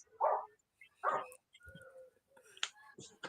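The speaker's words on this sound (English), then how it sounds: "You got a dog at your house?" A dog barking from a neighbouring house, two clear barks followed by softer yips and whimpers, fairly distant and alone.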